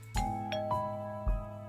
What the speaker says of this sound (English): The doorbell rings again.